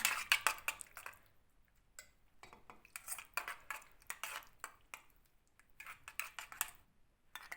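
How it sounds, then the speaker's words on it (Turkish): A spoon clinks and scrapes against a bowl while mixing homemade yogurt with a few spoonfuls of milk, giving a string of quick, fairly close metallic taps in uneven bursts with short pauses between them. "2-3 kaşık sütümden alıyorum. Ve yoğurdumla karıştırıyorum."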